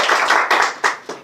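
Audience at the launch of a disability apprenticeship program in Kenya clapping together, a loud close burst of about four strong rhythmic claps.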